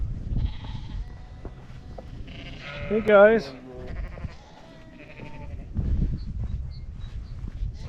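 Sheep in a Swiss hillside field give a few close bleats between quiet stretches, with a person talking nearby.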